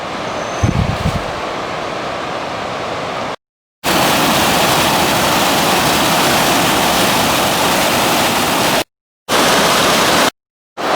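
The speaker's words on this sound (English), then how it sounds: "One thing I enjoy about these hikes is the sound, because we have the Animas River right down below as we're making this trek." Animas River rushing below a wilderness hiking trail in Colorado's Weminuche Wilderness, a loud steady broadband roar of flowing water, broken by brief silent gaps, with a short bump of handling noise near the start.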